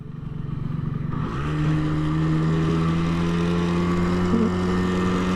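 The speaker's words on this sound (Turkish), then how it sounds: "Şu an motor rolantide gidiyor." Motorcycle engine idling while riding, a steady close drone with a throbbing low hum that firms up after a second and carries on evenly, with no voices.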